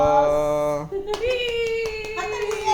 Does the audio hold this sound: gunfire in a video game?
no